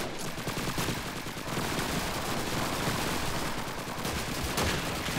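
Continuous heavy gunfire in the video game Call of Duty 2 on a winter battlefield, dense overlapping shots forming an unbroken loud barrage throughout, with no speech.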